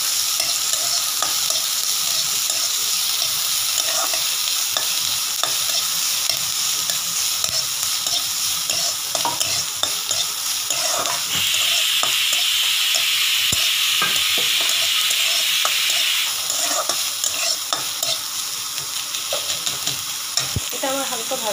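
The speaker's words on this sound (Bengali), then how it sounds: "পেঁয়াজটাকে হালকা করে ভেজে নিচ্ছি।" Onions lightly frying in a pan for a Bengali home meal, a continuous close sizzle and crackle with a spatula stirring and scraping throughout, the hiss swelling louder for a stretch midway.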